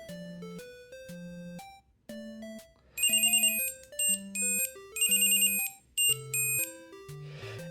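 A Pebblebee Bluetooth tracker tag plays a bright electronic melody of beeping tones, some notes layered with shrill high chirps, repeating in short bursts like an alert jingle.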